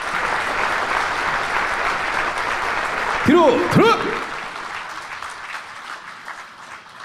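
Audience applause at the Armed Forces Day ceremony marking the 77th anniversary of the Korean military, honoring a joint civilian-military taekwondo demonstration team; steady crowd clapping runs under a commander's shouted drill calls and a brief tonal sweep.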